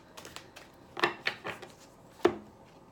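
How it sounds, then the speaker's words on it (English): Tarot cards are slowly shuffled by hand, giving a handful of soft, crisp snaps and taps spaced irregularly over a quiet background, close but faint. "I just do a slow shuffle and then I'll split these cards."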